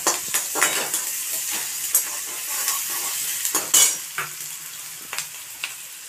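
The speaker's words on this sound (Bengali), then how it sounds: "ভালো করে একটু নেড়ে চেড়ে নেব।" Shapla stalks and prawns frying in plenty of oil while a utensil stirs them, giving a steady close sizzle broken by repeated sharp scrapes and clinks against the pan.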